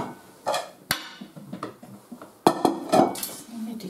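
Plates are taken out in a home kitchen while cooking spaghetti al limone, with dishes and cutlery clinking and clattering in quick, irregular knocks close by.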